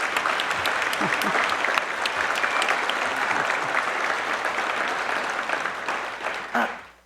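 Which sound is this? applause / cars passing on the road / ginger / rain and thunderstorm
applause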